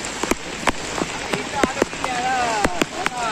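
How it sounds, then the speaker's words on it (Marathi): Heavy monsoon rain pours steadily, drumming on surfaces and water, with sharp drip and splash hits scattered through the constant hiss; loud and close. "आता पाऊस परत चालू झालेला आहे."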